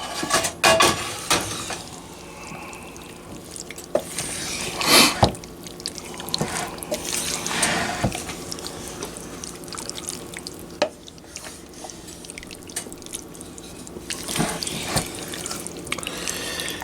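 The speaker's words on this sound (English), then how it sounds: "And then give it a good stir. Give it a good swirl." Liquid is stirred and swirled in a bowl while making a sauce, giving close, irregular sloshing, clinks and wet scraping with scattered louder knocks, and no talking over it.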